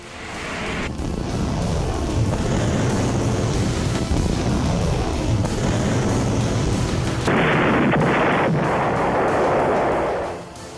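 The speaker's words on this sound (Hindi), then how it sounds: "इजराइल पर बरस रहे रॉकेट बम।" Hezbollah rockets striking Israel make a continuous, loud roar of launches and blasts, with a harsh rushing surge near the end before it fades.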